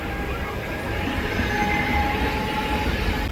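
A Jan Shatabdi train carriage on the Mumbai to Ratnagiri route rumbles steadily at speed, with a loud continuous roar, faint wheel squeal and rhythmic track noise filling the whole interior.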